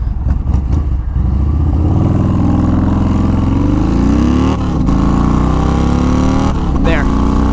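A Yamaha Warrior 1700cc motorcycle cruising at highway speed in fifth gear around 2,500 rpm, its steady low engine drone and wind rush running continuously up close, with a rider talking over it throughout.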